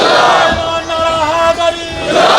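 A crowd at an 11 Rabi ul Awal gathering in Lahore shouting back a religious slogan in unison, a loud, drawn-out chant of many voices that swells again at the end.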